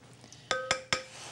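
A spoon stirring iced tea with lemon juice in a glass pitcher gives three quick, ringing clinks against the glass, close and fairly quiet.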